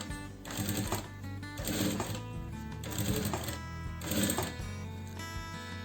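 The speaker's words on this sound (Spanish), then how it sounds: "Vamos a usar el pie compensador y vamos a hacer una costura acá" A sewing machine fitted with a compensating foot stitches a seam in fabric, its motor running in steady bursts with short pauses between runs, close and fairly loud with no talking.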